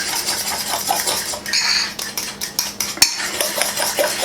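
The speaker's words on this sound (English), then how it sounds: "We're just gonna whisk this up together real quick until it gets a little creamy" Quick whisking of carbonara ingredients in a bowl, metal whisk clattering rapidly against the sides in steady bursts, close and fairly loud with no talking.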